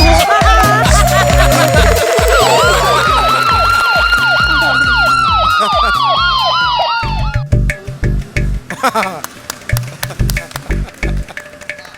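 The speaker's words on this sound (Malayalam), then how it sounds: "ആംബുലൻസ് പുറത്തുണ്ട്" A loud, close ambulance siren wails in rising and falling sweeps over a pounding rhythmic beat, then cuts off abruptly, leaving scattered knocks and thumps.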